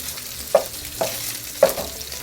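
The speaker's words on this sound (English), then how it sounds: "So my Spam is nice and golden and seared on all sides." Spam slices sear in a hot pan with a soft sizzle, broken by three short scraping stirs or flips spaced about half a second apart, close and fairly quiet, no talking.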